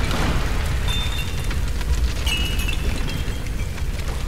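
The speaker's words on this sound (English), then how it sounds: "Nice big explosion." A loud, rumbling video-game explosion in Tomb Raider roars and crackles continuously, with deep booming low end and scattered debris-like noise.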